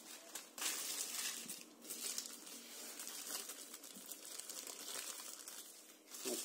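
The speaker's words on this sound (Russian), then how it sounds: "И очередной воздушный шар. Вот такой вот скомканный." A crumpled foil balloon shaped like a cow is unfolded, giving a steady close crinkling and rustling that runs for several seconds with short pauses and a few louder crackles.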